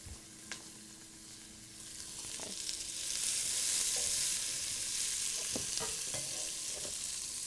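Onions sizzling as they cook down in a pan for whole wheat pasta with beans and greens, a steady hiss that swells and holds, broken by several sharp clinks and scrapes of a spoon stirring.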